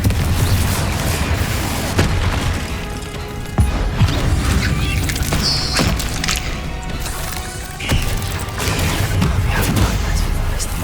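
Confringo spell blasts in Hogwarts Legacy, heard as repeated sharp booms and crashes from close by over a dense, continuous background of game effects.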